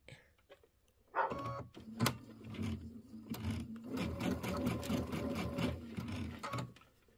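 A sewing machine stitches a Kimberbell mini quilt corner to corner at a short 1.8 stitch length, starting with a few quick taps before running in a sustained, rhythmic whir that stops near the end.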